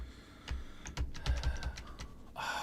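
A malfunctioning computer keyboard is typed on in a quick burst of clicky keystrokes, close and moderately loud, followed by a short rustling noise.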